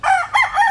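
Farm chickens give a loud, close rooster-like crow with clucking inflections, packed into a brief burst of under a second.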